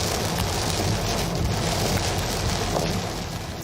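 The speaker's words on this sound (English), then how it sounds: "We caught this pounding rain on I-75 in Auburn Hills." Heavy rain pounds down on the I-75 interstate in Auburn Hills during a storm, a dense, steady broadband roar of drops on pavement that fills the whole span and fades slightly at the end.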